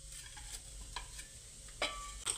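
Soft, steady sizzle of cumin seeds in hot oil with a few brief scraping stirs, close by and fairly quiet.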